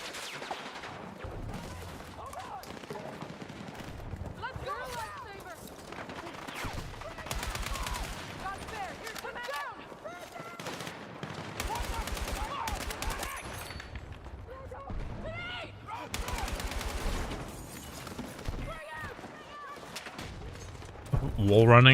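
A hard-hitting gun in a video game fires repeated loud bursts and rattling volleys in uneven clusters, with a person talking between and over the shots.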